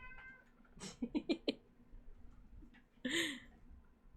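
A pet cat meows indoors during a relaxed livestream, a short series of close, clear calls followed by one longer, louder meow a moment later.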